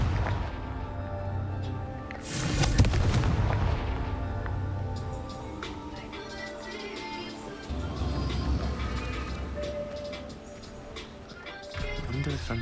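Confringo spell blasts in Hogwarts Legacy on PS5, a sharp explosive burst near the start with a booming tail, followed by further softer impacts and rumbles amid game ambience, with a voice calling out.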